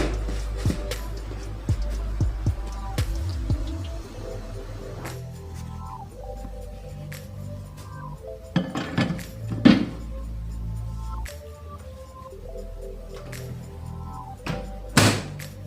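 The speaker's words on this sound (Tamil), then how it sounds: "நம்ம மைக்ரோவேவில் வச்சிடலாம்." A covered dish of chicken is set into a microwave oven and the door is shut, giving a few scattered thunks, taps and clatters at low level, with faint talk in the background.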